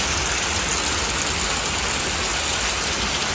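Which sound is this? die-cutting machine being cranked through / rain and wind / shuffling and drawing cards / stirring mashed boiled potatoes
rain and wind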